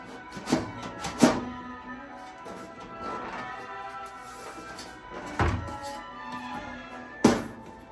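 Several separate hard knocks on a two-drawer metal cabinet being assembled, spaced irregularly over a low background with faint handling noise; the strongest thumps land near the start and end.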